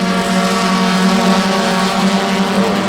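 A big pack of club race cars running bunched together deep into a race at Sebring, a loud, steady engine roar with layered droning tones holding throughout, no pauses and no talking.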